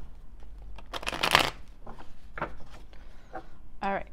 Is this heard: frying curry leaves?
no